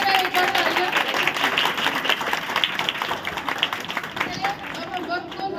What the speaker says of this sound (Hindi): तो बजाय जरा एक बार तालियां।